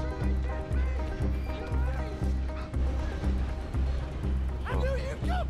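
Rhythmic galloping horse hoofbeats in the video game Red Dead Redemption 2 pound steadily under background music, with a brief whinny near the end.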